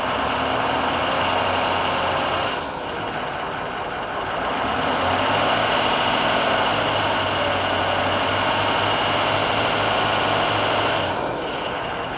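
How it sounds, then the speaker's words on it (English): A 2007 Ford E350 extended cargo van with a turbo diesel engine idles steadily and close by, a continuous low rumble and clatter holding an even level throughout with no talking. "My favorite part of any diesel is listening to it."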